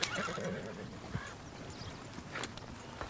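Horse in a video game neighing with a rough whinny amid clip-clopping hooves and ambient outdoor noise, fairly close, with a voice faintly underneath.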